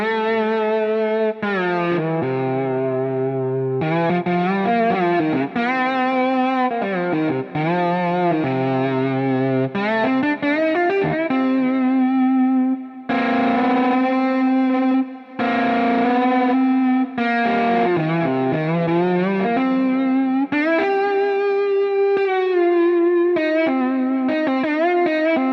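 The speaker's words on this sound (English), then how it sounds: "Here's slide guitar with distortion." Loud distorted slide guitar sound played on a LinnStrument, continuous gliding notes that bend smoothly between pitches, with effects-laden sustain and no voices.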